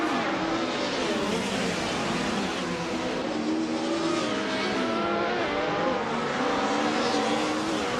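Race cars in a racing video game roar continuously with dense, steady engine drone and shifting pitch lines, several cars overlapping at constant loudness throughout, no talk.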